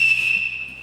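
A person whistles one sustained, steady high note that holds for under a second and sits clearly in front, with no talking over it.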